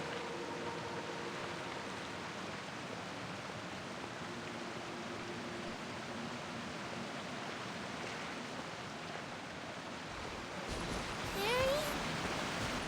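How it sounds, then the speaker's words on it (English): Rain falls steadily in Genshin Impact as a soft, even hiss that fades near the end, behind quiet background music. "Oh, it's raining."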